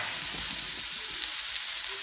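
Ingredients for a ketogenic orange and cinnamon stew sizzle in a pan while being stirred, a steady close frying hiss with faint scraping underneath and no voices.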